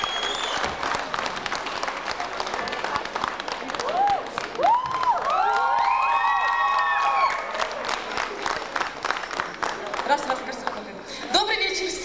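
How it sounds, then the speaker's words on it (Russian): Sustained applause and cheering from a concert crowd greeting a company representative at an evening show, loud and steady throughout, with whoops and shouting mixed in. Someone talks over the clapping, and a bright melodic musical tone swells in the middle. "Аплодисменты представителю фирмы «Азия-центр»"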